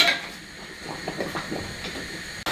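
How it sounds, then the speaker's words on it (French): Metal jar lids clink and rattle as they drop into a pot of boiling water, a few close clattering knocks over a steady bubbling hiss, ending in a sharp clack. "On va pouvoir plonger les couvercles à bouillir pendant 5 minutes."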